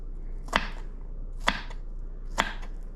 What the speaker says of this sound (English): You're just going to chop these onions up into really fine pieces.